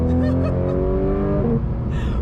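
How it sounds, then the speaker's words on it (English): A 2019 Porsche GT3 RS being driven, its engine note rising in steady tonal pitch as it revs and accelerates, loud and close from the cabin, easing off near the end with no talk over it. "We're driving in a 2019 Porsche GT3 RS."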